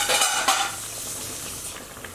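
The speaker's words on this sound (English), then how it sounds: "you flip it over. And make sure your oil's not too hot" Oil crackles and sizzles steadily in a pan frying Guyanese baiganee, with a couple of scraping stirs near the start, close and fairly quiet.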